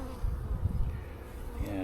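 Honeybees buzz steadily around an open hive with a sugar candy board and a patch of Honeybee Healthy feed, a dense close insect drone with slight swells, no talking.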